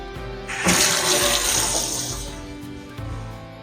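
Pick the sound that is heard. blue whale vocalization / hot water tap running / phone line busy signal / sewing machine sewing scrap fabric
hot water tap running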